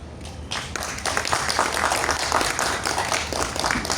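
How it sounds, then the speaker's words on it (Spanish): Audience at a film book presentation during a book fair greets the author with applause, starting after a brief pause and building into dense, sustained clapping from a fairly close crowd. "le recibimos con un fuerte aplauso"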